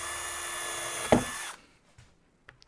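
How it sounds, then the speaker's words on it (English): An electric drill runs steadily with a high whine as a 4mm bit bores a hole through wood, then spins down and stops, leaving a couple of faint knocks afterward. "I'm going to continue the hole with a 4mm drill."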